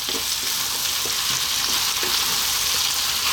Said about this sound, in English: And then we're going to go in with our cabbage. We'll give this a nice little mix.